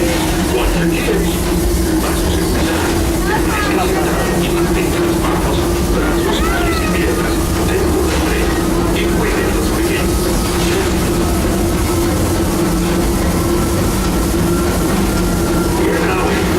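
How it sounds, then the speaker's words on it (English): Steady rumble of the Disneyland Railroad train rolling along rails, with a continuous low drone and faint rhythmic clatter, while an onboard announcer's voice talks over it throughout. "Welcome aboard the Disneyland Railroad."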